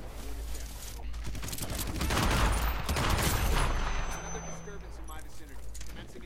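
Gunfire in the stealth video game Hitman, a dense burst of shots swelling to a loud peak midway and then easing off, with a voice talking over it.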